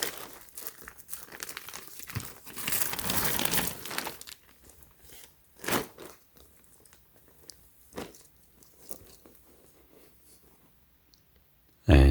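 Tissue paper crinkles and rustles up close while clothing is unboxed, a dense burst of crumpling followed by sporadic lighter rustles and clicks, then near quiet.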